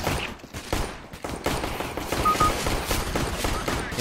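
Bursts of rapid gunfire from the video game CS:GO in a lower-ranked match, dense and sustained across the whole stretch with a few brief gaps, loud and close.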